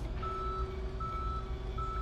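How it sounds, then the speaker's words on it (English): Tow truck reversing beeps in a police simulator video game, repeating in long, steady tones over a low, constant engine rumble, with no talking. "Please send a tow truck to my current location."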